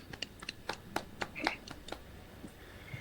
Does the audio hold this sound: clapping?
yes